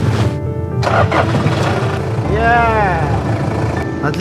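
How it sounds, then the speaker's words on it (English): A car engine starts after being heated in extreme cold in Oymyakon, with the battery newly installed: loud cranking followed by the engine catching and revving up, close to the microphone. "Now, we're going to try starting it."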